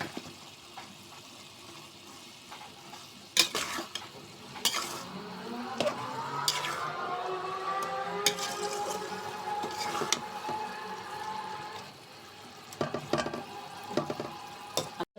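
Potatoes fry with tomatoes and green chillies in a pan for a fish curry, a steady low sizzle broken by several sharp scrapes and clinks of a spatula against the pan.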